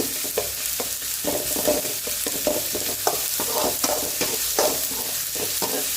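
Sorrel leaves (pulicha keerai) sautéed village-style in a pan: a constant crackling sizzle, close and fairly loud, broken by repeated scraping stirs across the pan, with no one talking.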